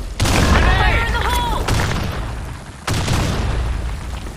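In-game explosions in the shooter BlackShot, heavy booming blasts with rumbling tails, one at the start and another near the end, layered with gunfire-like bursts and a chirping whistle sound amid the chaos.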